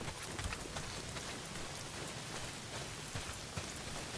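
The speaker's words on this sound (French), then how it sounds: "Pas s'il pleut des cordes, frangin." Heavy rain pours steadily in the video game Days Gone, a dense, even hiss of drops drumming on surfaces, with occasional louder splatters and no voices over it.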